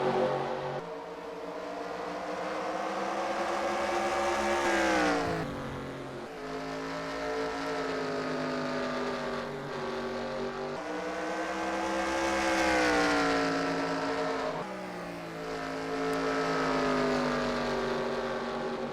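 Race cars roar around the North Wilkesboro oval in an IROC event, engines rising and falling in pitch as they pass close by in repeated sweeps, a loud continuous drone with no talk.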